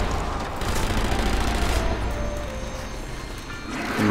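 Thompson submachine gun bursts in Sniper Elite Nazi Zombie Army rattle through dense, chaotic gunfire and booms, loud and continuous with a few louder volleys, no voices.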